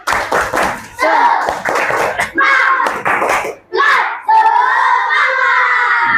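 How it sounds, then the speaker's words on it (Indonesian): A classroom of children performs a rhythmic spirit clap during an Islamic religious education lesson, with bursts of sharp, patterned handclaps mixed with loud children's shouting and chanting, close and lively throughout. "Tepuk semangat."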